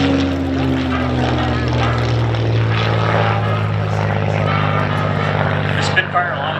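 Spitfire rolling inverted through a barrel roll at an air show: a loud, continuous propeller-engine roar that holds steady throughout, with an announcer's voice running over it.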